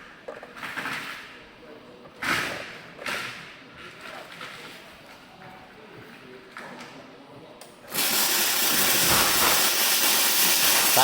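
A Kemppi MIG welder at work after its settings were corrected: a few uneven hissing bursts, then a loud, steady, frying crackle of the welding arc running continuously to the end.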